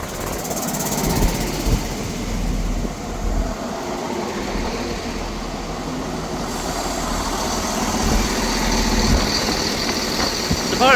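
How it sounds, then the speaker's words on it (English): A ScotRail service from Aberdeen to Glasgow Queen Street arriving at Montrose station, a steady loud rumble of diesel engine and wheels that holds throughout and swells slightly toward the end, with no talk. "arriving in is the delayed 13:08 Scotrail service from Aberdeen to Glasgow Queen Street"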